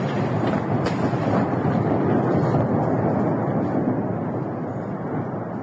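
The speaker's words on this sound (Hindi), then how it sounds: "इस फाइटर जेट की गर्जना को सुनकर, इस धमाके को सुनकर आप अंदाजा लगा सकते हैं" A loud, continuous roaring rumble of a fighter jet, holding steady for several seconds with no quiet gaps.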